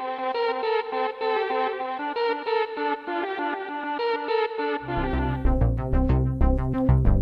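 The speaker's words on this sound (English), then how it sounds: "The other lead sound is coming from an expansion board, which is in the XP50. And it is a mellotron string sound." Mellotron-style string tones from an expansion board in a Roland XP50 synth play a sustained, layered melodic line with echo and chorus, joined partway through by a pulsing bass sequence.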